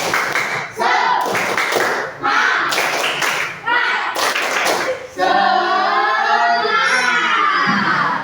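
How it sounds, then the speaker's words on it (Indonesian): Schoolchildren in a classroom perform a rhythmic spirit clap, bursts of loud group clapping broken by short pauses, with children's shouts and chanting voices woven through and a teacher's voice near the end. "kita mulai dengan tepuk semangat dulu ya"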